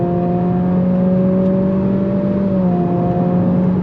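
A 2023 Acura Integra with a CVT in sport mode accelerates under throttle, its engine giving a loud, steady droning hum with sustained tones that shift slightly partway through, heard without voices.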